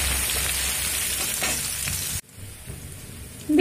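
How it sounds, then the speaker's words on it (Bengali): Crushed garlic sizzles steadily in hot oil with dried red chili and panch phoron, a close, bright frying hiss that suddenly drops away partway through, then swells back briefly at the end. "আর একই সঙ্গে দিয়ে দেব যে রসুন আমি থেতো করে রেখেছি সেই রসুনটা, যে রসুনটা একটু ভাজা হতে দেব।"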